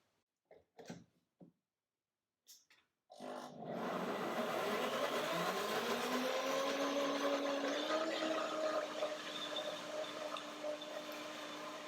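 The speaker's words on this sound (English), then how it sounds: "So I blended today with the cashew yogurt and the banana." After a few faint knocks and clicks, a blender starts up and runs steadily, whirring through cashew yogurt and banana, its pitch settling slightly lower as the mixture smooths, loud and alone.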